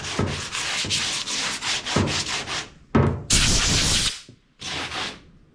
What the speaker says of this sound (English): You have to let it harden completely before you sand it.